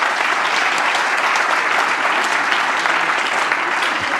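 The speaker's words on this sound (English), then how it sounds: "Can we have a round of applause?" Audience at a water-industry innovation presentation giving a dense, steady round of applause, loud and continuous throughout with no talking over it.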